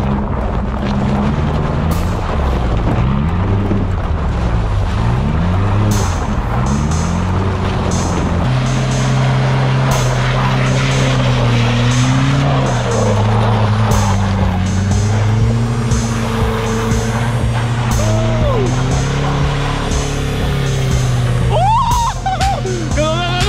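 A car throws its back end out while sliding around an empty snowy parking lot, its engine droning loud and steady throughout, the pitch rising and falling with the revs, with wind buffeting the microphone.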